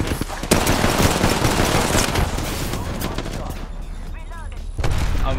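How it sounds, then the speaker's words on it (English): Enemy gunfire in Apex Legends crackles loud and dense in fast automatic bursts, with sharp cracks and impacts flying close by. Brief speech breaks in near the end. "The enemies are shooting at me."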